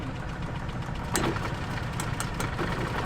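Cheap used golf cart engine with a dirty carburetor runs steadily nearby, a continuous rough idling drone with faint knocking, no talking over it.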